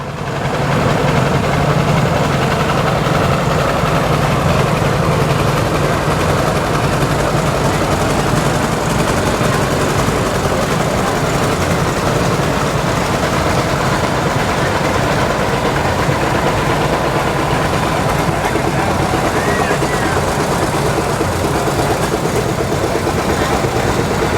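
Tractors from a tractor club idle in a small-town summer parade, a loud, continuous low engine rumble and vibration that holds steady throughout without breaks or voices.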